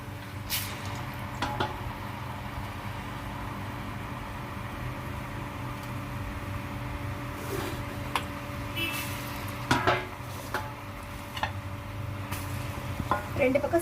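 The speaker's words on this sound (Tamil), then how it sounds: "இப்போ முறுக்கு போடலாம். எண்ணெய் சூடாயிடுச்சு. இப்போ அதில் போட்டுக்கலாம்." Murukku dough frying in hot oil for a crispy Krishna Jayanthi snack: a steady, soft sizzle and bubbling continues throughout, with occasional faint clinks and taps over it.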